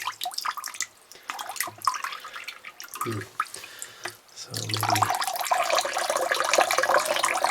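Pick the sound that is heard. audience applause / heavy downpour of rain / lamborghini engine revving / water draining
water draining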